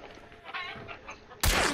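Chickens cluck softly in the video game Hunt: Showdown, followed by a sudden loud shotgun blast that rings out in the last moment.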